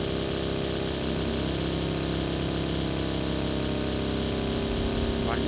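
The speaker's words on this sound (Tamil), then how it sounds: "ஜிபி கிளம்புது" Jeep engine in a battle royale game, a steady mid-pitched motor drone that runs throughout, with a rising tone near the end and a voice talking over it.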